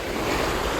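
Loud, close ocean surf churns at a shoreline fishing spot, a dense continuous roar of waves mixed with heavy wind buffeting the microphone, with no talking over it.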